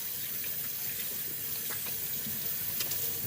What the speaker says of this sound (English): Turn your water on. You basically want to wet your hands first.